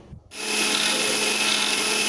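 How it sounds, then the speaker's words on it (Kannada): A mixer grinder starts up after a brief quiet moment and runs at a loud, steady whine as it grinds coconut, dried red chilies and cumin with water for a jeera curd saaru. "ಇವಾಗ ಸ್ವಲ್ಪ ನೀರು ಹಾಕಿದ್ದನ್ನೆಲ್ಲ ರುಬ್ಕೊಳ್ಳಿ"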